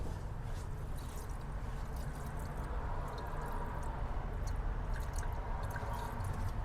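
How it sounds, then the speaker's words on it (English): Gasoline pours down the carburetor throat of a 1966 Mustang as a steady, soft liquid hiss and trickle with faint drips, continuous and close under low background noise. "let me pour some gas down the throat of this"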